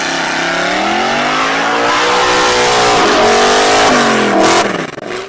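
A sleek luxury sports car, the Puri, built for the African landscape and powered by an 8.2 V8 gas engine, revs hard and loud, its pitch sweeping up and down through gear changes before dropping away near the end.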